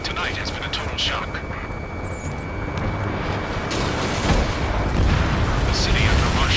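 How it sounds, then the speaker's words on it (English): Roaring jet engines and dense booming gunfire in the video game Ace Combat 7: Skies Unknown fill the scene continuously, loud and rumbling, with a spoken voice running over the din. "Gunfire and the roar of jets echoing through the streets."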